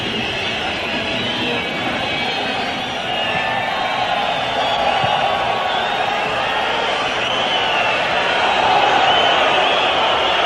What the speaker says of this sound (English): this is the crowd's understandable reaction